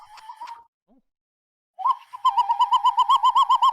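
Human voice mimicking bird calls, a short warbled note followed by a quick run of rapid, evenly pulsed chirping hoots, close and fairly loud with nobody speaking.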